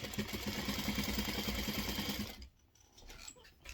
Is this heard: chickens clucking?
no